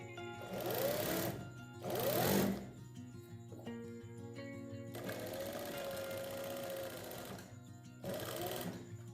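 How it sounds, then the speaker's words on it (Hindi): A sewing machine stitches a kurti along its marked shape in bursts of rapid, steady mechanical whirring, with short pauses and a longer run in the middle, heard up close over a faint background hum. "फिर आपने मार्किंग के ऊपर सिलाई लगानी है।"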